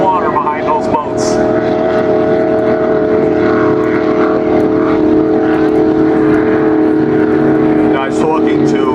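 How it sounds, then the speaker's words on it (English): Steady loud twin-propeller racing boat engine drone with water rush at the St. Clair OPA boat races, continuous throughout, with voices talking faintly underneath. "Those two little props move a lot of water behind those boats."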